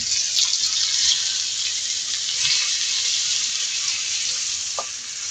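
Chicken milanesa frying in a pan gives a steady, bright, close sizzle that holds evenly throughout, with a few faint clicks and a brief knock near the end.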